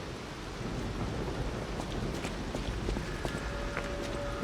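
Steady rain falls in the video game Lies of P as the player reaches the city of Krat by the hotel, a dense, even hiss with faint distant rumbles and scattered tones, with no talk over it.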